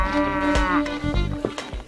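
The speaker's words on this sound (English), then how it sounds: "keeps 10 cows on her farm" Cattle on a smallholding farm in Kimutua, Machakos County, Kenya, low drawn-out moos and lowing calls repeating close by, with other farm noises, no talk.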